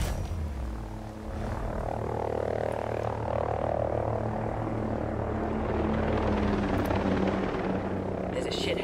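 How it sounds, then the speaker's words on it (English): An enemy helicopter in the video game Ghost Recon Breakpoint drones with a steady rotor thrum that stays loud throughout, and voices talk over it. "Enemy helo inbound."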